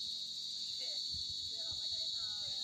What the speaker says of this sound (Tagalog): Tapos maririnig mo na yung mga kuliglig.